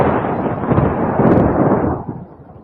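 A loud thunder sound effect plays on a talk show, a booming, rumbling crash that rolls on for a couple of seconds before fading away.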